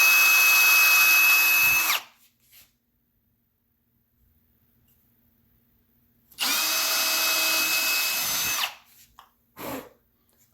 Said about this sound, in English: I'll show you why we drill these holes where we drilled them